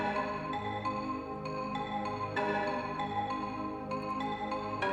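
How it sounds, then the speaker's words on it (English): An Akai S612 marimba sample re-triggering in repeated notes over a sustained Wavestation octave strings pad, played together from a keyboard rig; soft, continuous and without voices. "It sets the Mark 80 to play a combination of an Akai S612 marimba sample and the octave strings preset from the Wavestation"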